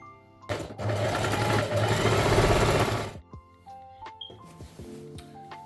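A sewing machine runs steadily for about three seconds, stitching a half-inch seam on a one-piece jumpsuit. Afterward come quieter clicks and fabric handling.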